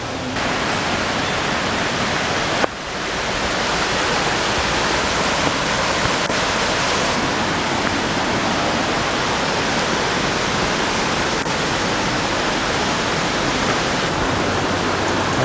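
A waterfall at the Barosa mills on the Camino de Santiago roars as a continuous dense broadband rush, loud and steady throughout, with no voices.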